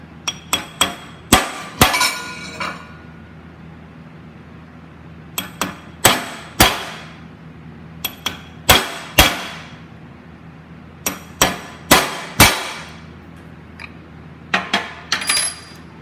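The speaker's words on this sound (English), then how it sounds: "I stake it, that is stake, in 4 spots." Sharp metallic hammer blows staking a John Deere variator assembly part, struck in four separate clusters of quick ringing taps with brief pauses between, close and loud with no talking.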